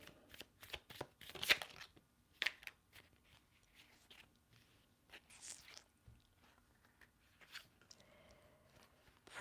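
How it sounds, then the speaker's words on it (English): Tarot cards shuffled up close: quiet riffling with sharp clicks and taps coming in irregular bursts, no voices. "I'm going to keep shuffling"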